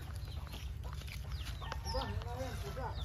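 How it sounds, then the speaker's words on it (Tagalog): Several chickens on a farm cluck and squawk in bursts, fairly close, with a person speaking over them at low volume. "Kagulo na naman ng manok."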